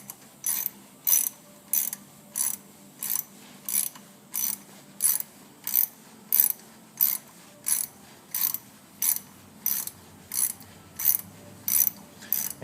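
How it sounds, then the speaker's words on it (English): A 1/4-inch ratchet with a bit driver socket turns a thread repair coil into a damaged caliper bolt hole on a 1997 Dodge Dakota steering knuckle. The pawl clicks out in steady, evenly spaced bursts, close and alone. "I just use a 1/4-inch ratchet with a bit driver socket. And I just run that coil into the hole."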